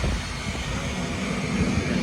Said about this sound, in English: Here is the ALE plane that we're going to fly on, the 757 all the way to Antarctica right here.